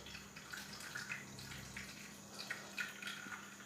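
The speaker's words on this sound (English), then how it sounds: "we need to have double pan with water," Boiling water running into a double pan for a water bath while baking caramel pudding, a soft, faint splashing and trickling pour with a low background hum.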